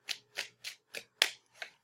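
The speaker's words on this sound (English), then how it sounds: "So I'm shuffling right now." Tarot cards being shuffled by hand in six quick, even riffling bursts, close and crisp, with no talking.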